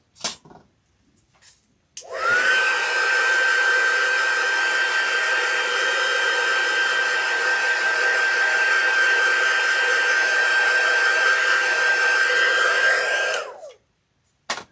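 A hand-held dryer switches on and blows a steady, loud whirring whine for about eleven seconds while drying paint on a craft scarecrow, then cuts off, with faint handling noises before and after.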